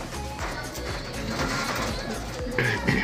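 Pigeons in a newly built loft, soft low cooing repeating through a busy backdrop of shuffling and scattered knocks, with a brief louder clatter near the end.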